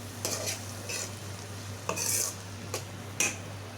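Spices being stirred into a corn and capsicum curry in a pan, with a soft steady sizzle and several sharp scraping clinks of a spoon against the metal, close and alone without speech.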